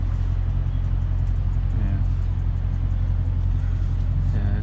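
A 2022 Dodge Challenger Scat Pack Widebody V8 engine drones while driving, a constant deep low rumble from inside the cabin with no clear revving, and brief quiet voices passing over it.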